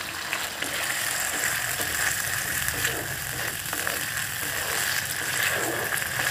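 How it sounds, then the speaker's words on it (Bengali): Chopped capsicum goes into a chilli chicken gravy and sizzles as a steady, fairly loud hiss with bubbling texture, close up. It stays even throughout with no talk over it. "এবার এই গ্রেভির ভেতরে ক্যাপসিকাম কুচি দিয়ে দেব"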